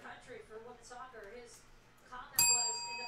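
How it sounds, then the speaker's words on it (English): A bright bell rings once near the end, celebrating a good hit while opening packs in a break of 2021-22 Panini Donruss Soccer hobby boxes; it rings out clearly after steady talk. "Gets the bell."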